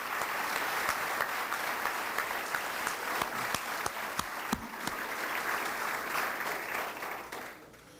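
Dinner guests at a business hall of fame banquet applaud Phil Leathers and the Forest Hills Country Club staff, a sustained round of clapping with a few sharp, close claps standing out before it fades near the end.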